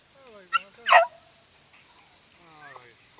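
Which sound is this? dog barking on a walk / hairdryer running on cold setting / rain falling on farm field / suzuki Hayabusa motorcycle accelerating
dog barking on a walk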